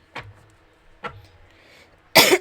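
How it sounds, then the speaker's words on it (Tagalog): Three separate coughs, two short ones spaced about a second apart, then a louder, harsher cough after a pause. "Ubong-ubo."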